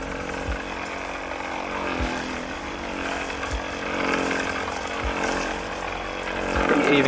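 Electric snow foam gun spraying foam over a Ford Focus XR5 Turbo, a continuous motorized hiss and hum of the sprayer held close, with a few soft thumps and light rustling along the way.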